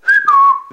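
A person whistles in imitation of a cartoon gopher, a loud, close two-part whistle with a steady tone that glides lower, then a short upward chirp at the end.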